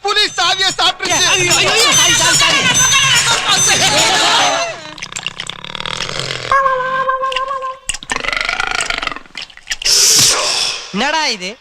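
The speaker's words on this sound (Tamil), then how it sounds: "ஒரு சாவி சாப்பிட்டதுக்கு ஏப்பம் விடுது" A cartoonish movie sound effect of a tiger burping after swallowing a key, from the Tamil comedy film Guru Sishyan: a strained, gurgling belch with squelchy tones, mixed with loud voices and comic noises.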